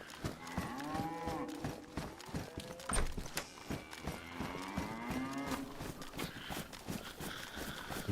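A cow moos repeatedly in the DayZ video game, in long low bellowing calls, with hoof clip-clop and footsteps mixed in, all fairly close and with no speech over it.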